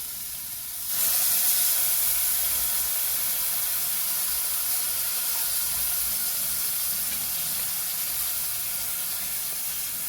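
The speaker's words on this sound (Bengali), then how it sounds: "ভালো করে কষানো হয়ে গেছে দিয়ে দেবো আমি তেঁতুল জল" Tamarind water poured into a pan of small-fish curry with taro, setting off a sudden loud steamy sizzle after a second that holds steady and hissing to the end, with no talking.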